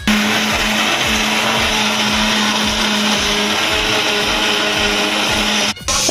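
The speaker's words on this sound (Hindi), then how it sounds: "अभी मैं यहाँ मतलब पीसने वाला हूँ, पहला पीसने हैं प्याज कटे हुए" Electric mixer grinder chopping onions in a home kitchen, a loud steady whirring motor with pulsing churning rhythm that runs continuously and briefly cuts out near the end.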